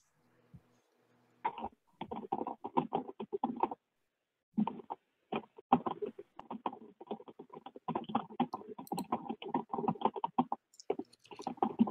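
Soft keys are tapped on a computer keyboard during an online nature discussion, in irregular bursts of quiet clicks. There is a short pause, then the typing resumes, faint and close with no talk.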